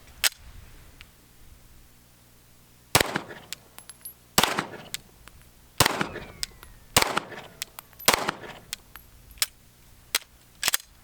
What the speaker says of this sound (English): Keith is shooting the Gen 5 17 stock trigger